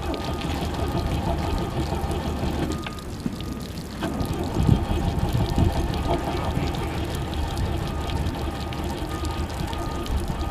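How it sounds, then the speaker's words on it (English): Water runs from a tap in a steady, close rushing pour that continues throughout with a brief dip in the middle, and faint voices sit beneath it. "The water's still on?"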